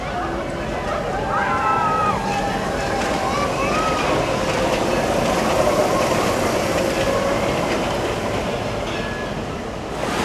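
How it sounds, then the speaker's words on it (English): Runaway Mine Train roller coaster at Alton Towers, its cars rumbling and rattling along the track at a moderate distance, with screeching wheel squeals under people talking nearby in the ride queue. "you saw a bit of footage there of the runaway mine train from a part of the queue line for the Congo River Rapids"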